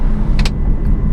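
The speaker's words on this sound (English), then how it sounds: "The V12, man, it just screams" An Aston Martin Virage with a 6-liter V12 drives along, its engine giving a steady low rumble with a couple of brief higher bursts, close and continuous.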